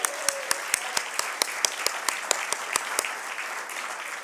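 An audience at an awards gala applauds two honorees, the clapping steady and sustained across the room, with sharp individual claps standing out near the front and tapering slightly toward the end.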